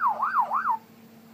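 A person imitating a wailing emergency siren with the voice, rising and falling in two and a half smooth sweeps before cutting off, close and clear with no other sound.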